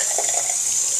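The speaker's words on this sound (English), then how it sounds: "Run some water." Tap water runs steadily into a sink during straight razor shaving prep with a brush, a constant hiss of flow filling the whole moment without pause or talk.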